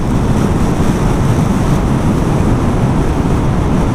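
Constant roaring wind rushing past at 110 on an unfaired Zero SR/F electric motorcycle, a dense, even blast of noise with a low rumble, steady throughout.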